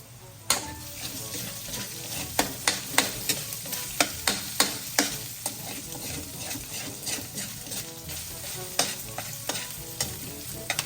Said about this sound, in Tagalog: magigisa na po tayo ng bawang at sibuyas